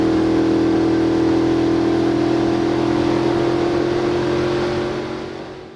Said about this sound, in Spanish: realmente nunca te enterarás de que estás llevando un hiperdeportivo de cero emisiones hasta que pises a fondo el acelerador